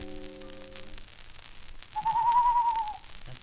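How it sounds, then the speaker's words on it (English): A barn owl call: a single drawn-out, steady hooting whistle about a second long, fairly loud against a quiet background with a faint low hum just before it. "Here's a barn owl."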